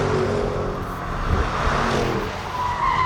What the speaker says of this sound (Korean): 일단 가속 페달을 밟을 때 지금 이제 코스 특성상 조금은 제한적으로 이렇게 가속 페달을 밟고 있는데